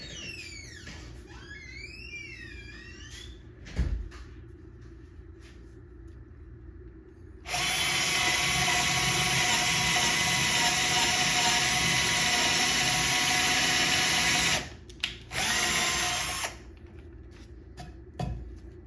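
A Bosch 12V cordless drill on speed setting 1 whirs steadily for several seconds while boring holes through material, stopping briefly and then running again, after a few quieter clicks and taps.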